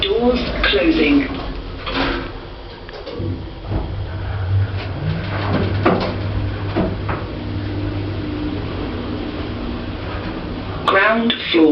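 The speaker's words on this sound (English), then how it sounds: "Going down. Doors closing." Hospital lift doors slide shut with a brief thud and rattle, followed by a steady low hum as the car starts moving, with an automated voice announcing over it.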